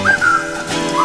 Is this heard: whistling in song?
yes